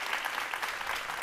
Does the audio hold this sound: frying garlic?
no